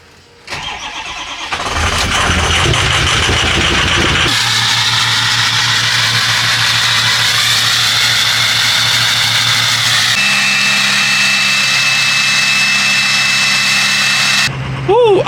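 A Ford F250 6.0 Powerstroke diesel truck cranks briefly, catches and settles into a loud, steady high idle nearby, holding that drone for over ten seconds before cutting off.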